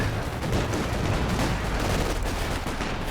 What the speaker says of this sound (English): Anti-tank gun delivers a nice first shot in against the Puma.